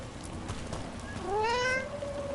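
A cat in the game Dragon Age Veilguard gives a single rising, drawn-out meow near the end, clear and fairly close over quiet game ambience.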